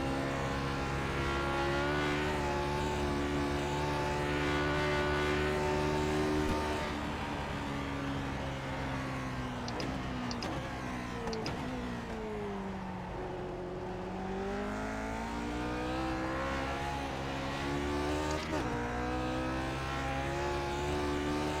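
Lotus 49 Grand Prix race car in iRacing at the Bathurst circuit, its engine holding a steady high drone, then dipping as the revs fall and climbing again, loud and continuous with no talk.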